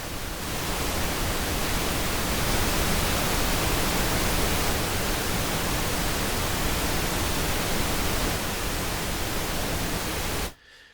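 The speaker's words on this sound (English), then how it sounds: "if I set the pink noise level to 0 dB, it's really, really loud and uncomfortable" Steady pink noise test signal used for mixing, a loud, dense, unchanging hiss spread evenly across the range, continuing for about ten seconds before cutting off abruptly, with no voices.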